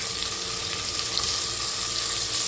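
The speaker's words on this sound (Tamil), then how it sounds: "குக்கரில் வெங்காயத்தை கருவாடை பொரிச்சிட்டு அப்படியே நான் தாளிக்கிறேன்." Onions and dried fish fry in a cooker with a loud, steady sizzle and hiss that never lets up, and no voices.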